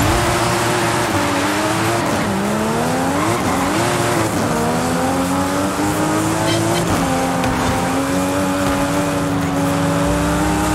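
Video game street race at night in fog, with a Nissan GT-R and an Audi RS6 among the cars launching together: loud, continuous engine drones rising and sliding in pitch as they accelerate, with tire squeal and skidding throughout.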